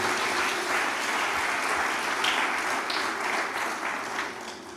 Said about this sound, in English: give a very special round of applause to Aradna Wallace